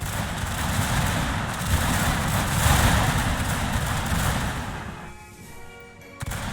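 Musket volleys in a Shogun 2 Total War battle, a dense, continuous crackle of massed gunfire rolling on for several seconds before easing off, with a sharp report near the end.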